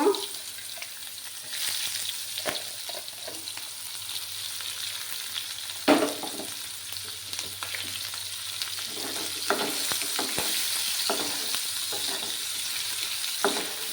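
Chopped onions sizzle in hot oil for a katla fish head dish, a steady close crackle and hiss with a few louder spatters and spoon stirs scraping through it.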